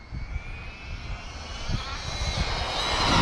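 An Arrma Infraction 4x4 3S brushless 1/8-scale RC car makes a high-speed pass with stability control off, its motor whine rising steadily and growing louder over rumbling ground noise as it approaches.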